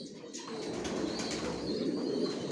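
A continuous low cooing murmur from racer pigeons kept in a loft, many birds blending together, fairly faint and steady without any voices.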